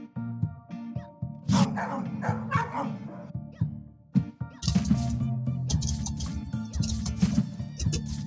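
Dogs in the video game Akane the Kunoichi bark and yip in quick repeated bursts. Their barks sit over steady background game music.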